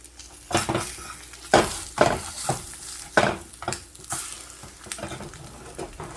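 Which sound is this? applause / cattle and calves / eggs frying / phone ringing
eggs frying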